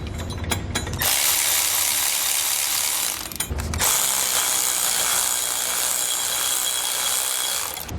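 Ratchet tightening helper spring bracket hardware on a 2013 Ford during an Air Lift LoadLifter 5000 install, rapid close clicking in two long bursts separated by a short pause.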